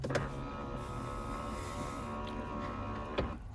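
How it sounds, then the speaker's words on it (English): The motorized gear selector of a 2021 Ford Raptor moves up and down, a small electric motor whirring steadily for a few seconds, a continuous mechanical hum with faint clicks near the start and end, notably noisy. "the little gear selector that goes up and down"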